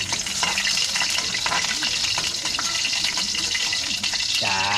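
Garlic frying in a hot pan gives a loud, steady close sizzle with occasional stirring scrapes throughout, and a brief rising tone near the end.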